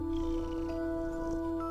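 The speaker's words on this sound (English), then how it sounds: "surrounded by the gentle purrs and soft paws of Emily's beloved cats." A cat purrs steadily and softly in a peaceful sunlit space, a low continuous rumble beneath sustained gentle tones.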